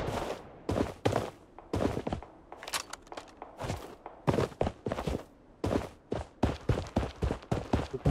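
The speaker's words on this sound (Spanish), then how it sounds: "porque estoy escuchando disparos todavía." Rapid, irregular gunshots crack out in bursts, some close and loud, others quicker and sharper, like a continuous firefight in the video game Blood Strike.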